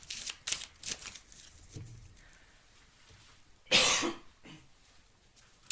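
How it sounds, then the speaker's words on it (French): Someone coughs from incense smoke, a few short bursts followed by one louder hacking cough near the end, close and indoors with no talking. "J'ai mis de l'encens et à chaque fois ça me fait pareil, ça me fait tousser."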